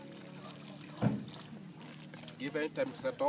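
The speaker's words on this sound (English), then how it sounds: "you first pour the water in the bowl" Water pours into a toilet bowl in a steady wash, with a sharp splash near the start, while a person talks over it close by.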